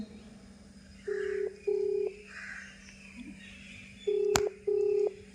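A phone being dialed: four clear keypad tones in two quick pairs separated by a pause, each beep short and even, with a sharp click between the last two over a quiet hum.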